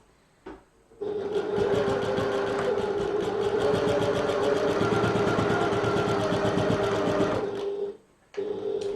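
A sewing machine bastes along a gusset edge, a loud, close, rapid mechanical whirr running steadily for about six and a half seconds after a brief start, then stopping and restarting.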